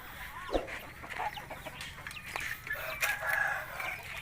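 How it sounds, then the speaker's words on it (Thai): Chickens and chicks cluck and crow in a busy coop with a duck, overlapping calls scattered throughout with steady background farmyard noise. "นี่เป็นลูกไก่ไข่ครับ"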